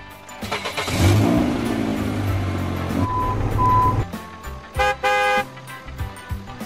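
Tractor engine revving in the Mechanic Mike 3 mobile game, a loud synthetic engine roar that fades, followed by short electronic beeps and a horn-like toot.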